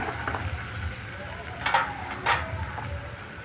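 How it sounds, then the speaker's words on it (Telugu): Spices with chilli powder fry in a pan for a dried snail and egg curry, giving a steady soft sizzle with a couple of brief louder stirring scrapes. "ఇప్పుడు వీటన్నింటిని బాగా వేయించుకోండి."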